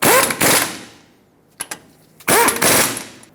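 A ratchet snugs up the brake dust shield bolts on a 2000-2005 Ford Excursion, with two loud bursts of rapid clicking separated by a quiet gap and a couple of short knocks, close up.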